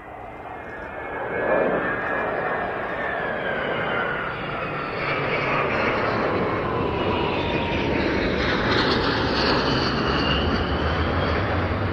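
Roar of a Vickers VC-10 and Avro Vulcan jet aircraft flying past at an evening classic jets display, a broad sustained rumble swelling and holding with shifting whine.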